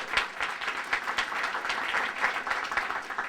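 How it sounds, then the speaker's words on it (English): A room of people applauding an executive director at an early childhood learning center event, a modest crowd clapping with distinct rhythmic claps, moderately faint and steady with no talking. "let's give her another round of applause"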